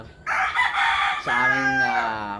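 A Larry Romero Raptor Sweater gamefowl rooster crows once up close, a loud drawn-out cock-a-doodle-doo rising and then holding steady, with a few soft clucks just before.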